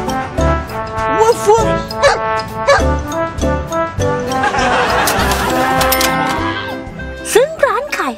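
A German Shepherd taking hot dog orders barks repeatedly in short bursts over lively background music, with laughter and chatter mixed in and the barks standing out near the start and end.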